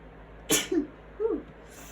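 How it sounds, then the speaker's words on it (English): A single sharp, close sneeze bursts out, followed by two softer vocal catches, all in a quiet room with no talking. "I sneezed 3 times"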